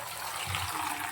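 Tap water pours steadily over raw mangoes being washed for Andhra-style mango pickle, a continuous close splashing gush with no voices.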